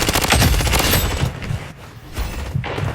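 Dense, rapid bursts of automatic gunfire from a Blood Strike shooter match, loud and close, with heavier volleys early on that thin out into scattered shots and booms.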